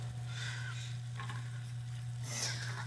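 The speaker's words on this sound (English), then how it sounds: "Let me stir that in here." Cumin and turmeric are stirred into a sizzling pan. A steady hiss of frying runs throughout, with soft scraping sweeps and a louder swish near the end, against a low, constant hum.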